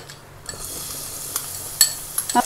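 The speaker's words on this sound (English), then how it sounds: "Now we saute the garlic for some time till the raw flavor goes off." Chopped garlic with green chilies sautéing in a pan, a soft continuous sizzle with a few stirring scrapes and light clinks of utensil on metal, close and brief.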